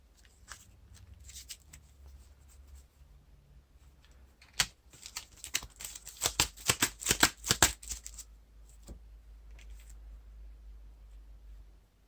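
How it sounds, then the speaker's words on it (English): A card-game encounter deck for the Lord of the Rings living card game is shuffled by hand: soft rustling gives way to a dense flurry of crisp riffle snaps, close and clear, then fades back to quiet rustle. "Shuffle the encounter deck."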